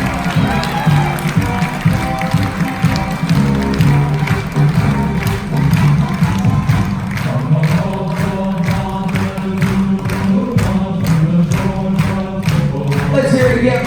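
A large party crowd aboard a Carnival cruise ship claps and cheers for Marines at a veterans' military appreciation event, with sustained loud applause and whoops over background music throughout.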